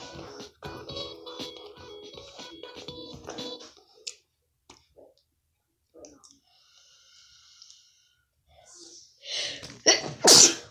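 After quiet clicking and faint music, a single loud sneeze bursts out close to the microphone near the end.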